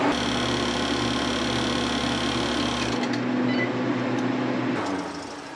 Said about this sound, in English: this freeze dryer is working its magic